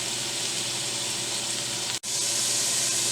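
Carrots go into a pan of onions frying in olive oil, giving a loud steady sizzle close by, broken by one brief gap before the hiss carries on.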